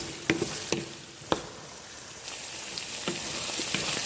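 Ingredients for Karnataka-style bisi bele bath fry in a pan with a soft continuous sizzle, broken by a few sharp clicks and scrapes of stirring, close up with no talking.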